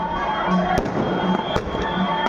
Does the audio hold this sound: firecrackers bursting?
yes